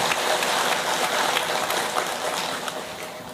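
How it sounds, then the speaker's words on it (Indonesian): Audience applause after a call to clap for a village head during a humorous Islamic sermon on marriage advice in Indonesia, a dense steady clatter of many hands lasting throughout at a constant, fairly loud level. "tepuk tangan dulu"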